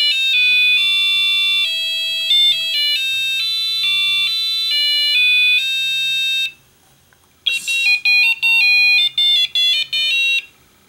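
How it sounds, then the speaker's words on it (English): A color-changing digital alarm clock plays a Christmas-style beeping chime melody, loud and clear, pauses briefly, then restarts with a faster run of tones. "So the first setting of the alarm clock"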